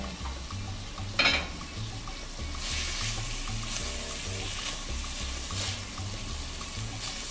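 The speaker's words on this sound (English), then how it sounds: "you fry it until it just almost burns, and then you put in the liquids" Onions frying for a vegetarian tortilla soup sizzle steadily in a pot, the hiss growing louder partway through, with a sharp scrape of stirring and soft clinks under a low background hum.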